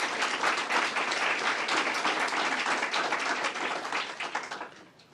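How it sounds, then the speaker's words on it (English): Audience members at a governor's opioid crisis briefing clap in a brisk round of applause, full and fairly close at first, then thinning into scattered claps as it fades out. "Let's give them a round of applause as well"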